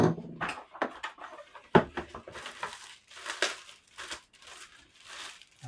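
Packing tape on a bracket box is broken during unboxing, giving a series of close crinkling, tearing and crunching bursts of cardboard and plastic with brief pauses between them.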